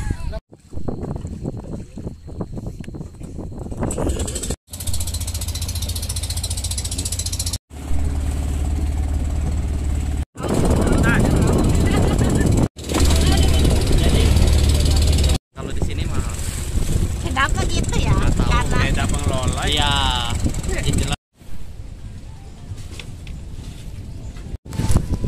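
A boat engine drones steadily throughout, loud and close, on a tourist boat crossing to Tegal Mas Island, Lampung, with wind buffeting the microphone and a voice speaking over it.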